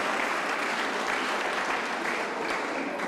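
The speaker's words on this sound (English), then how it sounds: "Give him a round of applause, come on" Audience applause at an East Ward School reunion for former pupil Alan Bowes: dense, steady clapping from a crowded room that holds evenly throughout.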